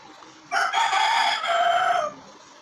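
A single loud rooster crow rings out close by, lasting about a second and a half, with quiet background before and after.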